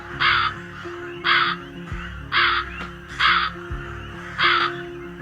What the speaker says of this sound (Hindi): लोमड़ी की गुफा से जोर जोर से आवाजें आ रही होती हैं कालू कौवे की